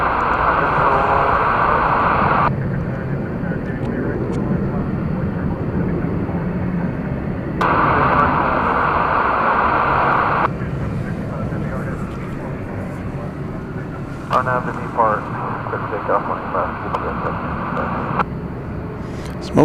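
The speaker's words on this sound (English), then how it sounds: "after we get clear of this aircraft" A jet airliner roars past at DFW airport, loud broadband engine noise swelling and cutting in sections over about twenty seconds, with someone talking at times beneath it.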